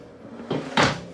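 A deep, spacious kitchen drawer slides open with two quick wooden knocks and a scraping rush, close by and against a quiet room.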